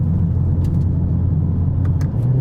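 A 2020 Mercedes-AMG CLA45 S engine on a racetrack gives a loud, steady, deep rumbling howl under sustained throttle, heard close with brief crackles and pops at the top, and no talking.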